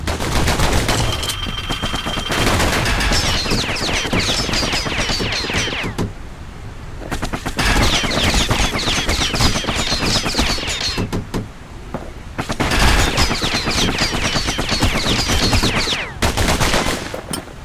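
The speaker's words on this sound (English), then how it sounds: "You know what's better than having a slinger pistol in a fight? Having two." Twin slinger pistols fire in the video game Bastion, loud, rapid bursts of gunfire with brief pauses between volleys, heard alone with game effects underneath.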